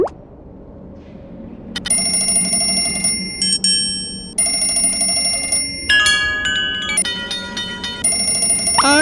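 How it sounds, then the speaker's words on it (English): An alarm clock rings in bright metallic bursts mixed with the clear ring of a struck metal triangle in a Thomas & Friends PC game, repeated tones layered over a steady background rumble. "It's only an alarm clock and a metal triangle."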